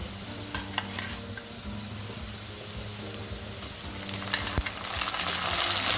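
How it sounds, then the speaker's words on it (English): Boiled potatoes hit a pan of browned onions for aloo posto, frying with a steady sizzle and stirring scrapes that grow louder and denser toward the end. "At this point, I am going to add the boiled potatoes that we had kept aside."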